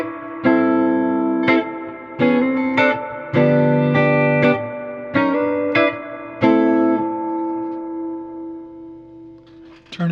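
A pedal steel guitar played through a two-knob reverb, ringing out a series of sustained, harmonically rich chords, each plucked attack followed by a shimmering decay, with a final chord fading out alone near the end.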